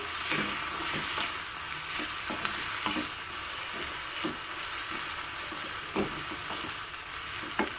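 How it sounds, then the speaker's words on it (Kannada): Finely chopped ginger frying in a pan for a village-style breakfast, a steady broadband sizzle with regular soft scrapes of stirring, close and continuous with no voices. "ಸ್ವಲ್ಪ ಫ್ರೈ ಆದಮೇಲೆ ಸ್ವಲ್ಪ ಶುಂಠಿನ ಸಣ್ಣದಾಗಿ ಹೆಚ್ಚಿಬಿಟ್ಟು ಹಾಕ್ತಾ ಇದ್ದೀನಿ"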